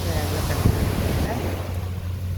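Steady wash of surf rolling onto the shore, mixed with gusty wind buffeting the microphone, continuous and fairly loud throughout.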